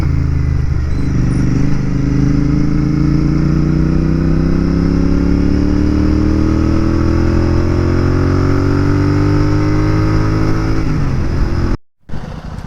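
A TVS Apache RR 310 motorcycle engine revs steadily and loudly up through a long climbing pull for about eleven seconds, then cuts off abruptly, with no talk.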